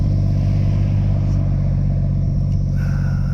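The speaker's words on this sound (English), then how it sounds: "Lets the revs sort of drop down to about 800, might be 600" A BMW M140i engine with no exhaust silencers idles with a steady low rumble after revving down to about 600-800 rpm, loud and close, with a faint chime near the end.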